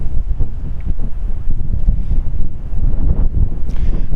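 Strong wind buffets a DJI Mini drone in flight, roaring as loud, gusty, rumbling wind noise against the microphone throughout, with no one speaking.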